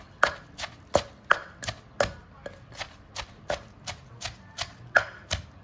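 Rhythmic pestle strikes pounding cicada and mango salad in a mortar, about two to three thuds per second, close and distinct with no talk.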